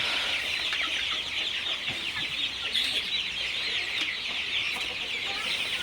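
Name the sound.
broiler chickens clucking on a farm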